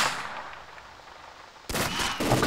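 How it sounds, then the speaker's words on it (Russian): Single gunshot in the military shooter game ArmA 2 with the ACE mod, an abrupt loud crack that cuts in after a quieter stretch and rings on briefly. "Я сделал один выстрел и он упал"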